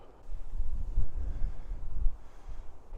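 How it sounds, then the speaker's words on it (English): Wind buffets a DJI Pocket 3 microphone outdoors, a steady low rumble that swells in gusts and stays close and fairly loud throughout, with no talking. "it's really windy"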